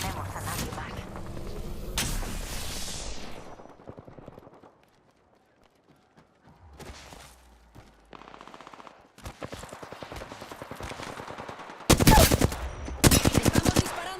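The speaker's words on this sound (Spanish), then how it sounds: "Estamos disparando." Automatic gunfire in a shooter video game: rapid machine-gun bursts come in clusters, broken by a near-silent pause midway, with loud, sharp shot bursts returning toward the end.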